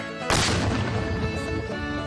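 A Civil War cannon fires once at a demonstration, a sudden loud boom that rolls into a long, broad rumble and echo lasting through the rest of the moment.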